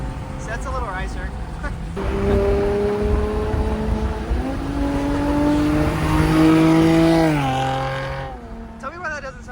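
A BMW 335is exhaust drones loudly while cruising, with rising and falling tones as it accelerates and shifts, fading near the end as the car settles.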